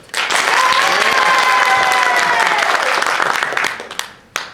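A theatre audience at a staging of The Mystery of Edwin Drood breaks into loud, sustained applause to vote for the character Bassett, a dense roar of clapping that holds steady before tapering off, ending with a few scattered claps.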